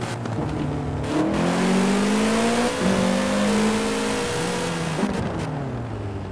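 A Volkswagen Scirocco engine in Forza Horizon 4 revs loudly and continuously, its pitch climbing and falling through several surges, with no talking over it.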